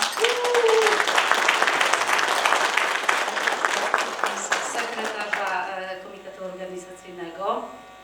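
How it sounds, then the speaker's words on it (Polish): A symposium audience breaks into dense, sustained applause honoring organizer Magda Nowak at a dairy symposium's closing session, loud for several seconds before fading as a voice begins speaking. "Brawa."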